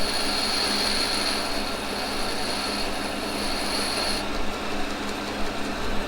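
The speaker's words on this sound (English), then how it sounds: "So I'm going to take and grind that back. Kind of easier on the diamond wheel." A diamond wheel grinds carbide on a tool in a machine shop, giving a steady, loud, high-pitched whine with a constant rushing hiss that never lets up.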